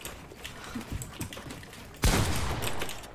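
Gunfire in the video game Fortnite during a one-versus-one match, several soft shots followed by a sudden loud burst of rapid fire that keeps going to the end.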